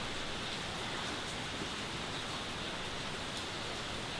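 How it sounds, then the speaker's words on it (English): Steady rain falling outdoors during a field day on weed management in land reclamation at Sheridan, a continuous dense hiss of drops with no talk. "if the rain stops"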